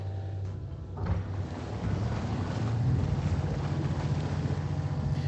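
Truck engine in the MudRunner VR off-road driving game runs with a continuous low rumble and rising throb after a brief start, steady and fairly loud with no talk over it.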